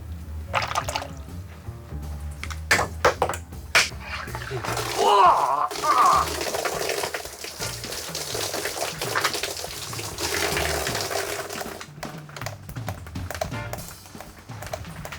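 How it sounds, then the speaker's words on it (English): Water runs from a sink built of LEGO bricks, a steady trickling gush lasting throughout, with some clattering and faint voices mixed in beneath it. "The sink may not be perfectly watertight, but never mind."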